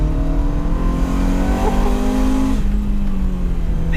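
Ferrari 355 engine humming steadily at a near, constant pitch while driving on new Michelin Pilot Sport 4 tires, with a slight shift in tone partway through.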